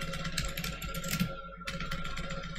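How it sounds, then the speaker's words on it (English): Typing on a computer keyboard, a quick flurry of close clicking keystrokes with a brief pause midway before the tapping resumes. "you're going to want to go ahead and type in"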